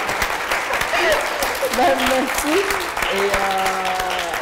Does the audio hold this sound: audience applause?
yes